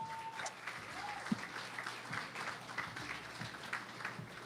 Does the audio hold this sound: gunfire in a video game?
no